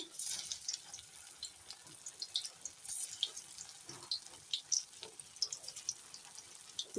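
Sizzling of soybean chunks, potatoes and green chillies being fried in a pan, with steady hissing crackle and small pops and taps as pieces go in one by one, fairly quiet and close.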